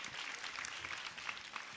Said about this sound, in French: On peut l'applaudir encore très fort, les enfants.